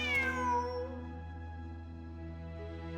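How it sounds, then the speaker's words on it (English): A cat in the video game Genshin Impact gives one clear, loud meow near the start, followed by a sustained musical drone. "Wait, there it is! The cat!"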